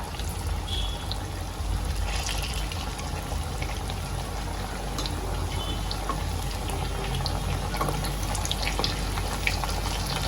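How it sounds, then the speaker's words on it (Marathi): Alu vadi (patra) slices frying in hot oil in a pan, a steady, dense sizzle and bubbling that carries on evenly throughout, close and continuous with no talking. "आता ह्याला चांगलं मी तळून घेते एका साईडनी चांगलं तळवून घेते ह्याला"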